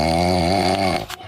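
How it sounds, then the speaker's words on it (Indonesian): A person snoring in a Indonesian home, a loud rhythmic rasping drawn-out breath close by, ending abruptly with a short pause. "Kayak ada suara orang ngorok"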